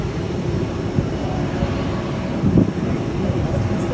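A jet plane rolls for takeoff at Centrair airport, its engines giving a continuous distant low roar that swells briefly, with a voice faintly underneath.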